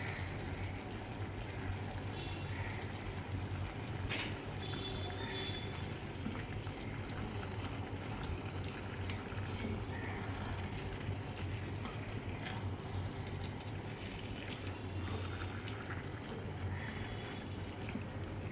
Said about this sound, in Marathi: त्याला मी छान परतून घेते आता